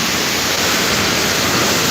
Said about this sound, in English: Now we're getting flooded.